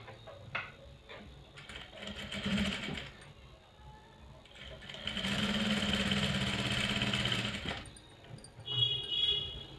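A sewing machine stitches a frock in short bursts of rapid, mechanical whirring separated by pauses, with one longer steady run in the middle; the sound is fairly quiet and close.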